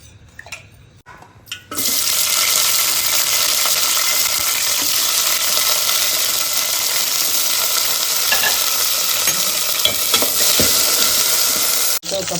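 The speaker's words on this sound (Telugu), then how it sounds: "2 టేబుల్ స్పూన్ల ఆయిల్ వేసుకొని పచ్చిమిర్చి వేయించుకోవాలి." Green chillies frying in two tablespoons of oil for ivy gourd chutney, with a loud continuous hiss that bursts in abruptly and holds steady close up, ending in a brief break.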